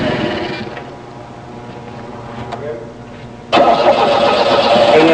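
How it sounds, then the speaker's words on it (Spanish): A fuel-injected car engine cranks briefly, then catches and starts, settling into a loud, steady rumble close by, heard alone without talk. "En el arranque del motor"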